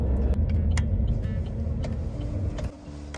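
A car engine idles and rumbles close by while being parked, with a faint mechanical whir and small clicks, the low drone dropping away near the end.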